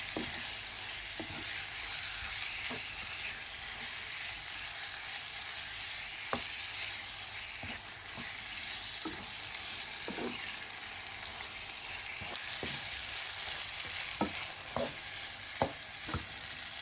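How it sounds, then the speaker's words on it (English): Marinated chicken for a jalfrezi curry sizzles steadily in a hot pan, a continuous bright frying hiss broken by occasional clicks of stirring. "add our marinated chicken. Begin the process of braising until it attains a gorgeous color"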